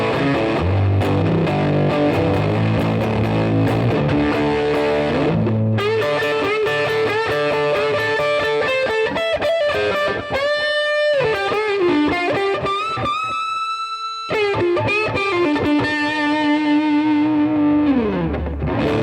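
An electric guitar played through a hand-built BK Butler Tube Driver clone overdrive pedal in neck position, with sustained distorted notes and chords that ring out long, loud and alone.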